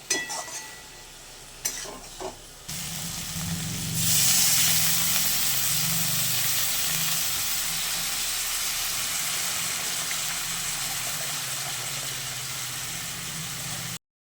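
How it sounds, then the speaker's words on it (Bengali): Water poured into a pan of sautéed chilli powder and cumin for a fish curry sets off a sudden loud hiss that settles into a steady sizzle and bubbling, close and continuous with no talking. "খুব ভালো করে কষানো হয়ে গেছে এবার আমি জল দেবো"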